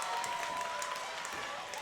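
A wrestling crowd claps and cheers in an arena, a steady wash of clapping and voices at a moderate distance, with a commentator talking over it.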